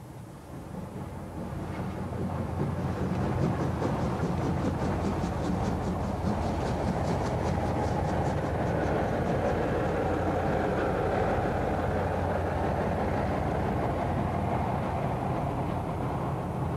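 A steady rumbling train passage swells up within the first few seconds and then holds at a continuous roar, matching an LNER steam express locomotive hauling a train out of Marylebone, with no voices over it.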